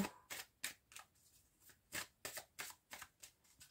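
A deck of oracle cards is shuffled and cut in a series of quick, crisp riffling bursts, about a dozen soft, close flutters in an uneven rhythm, quiet and with no talk.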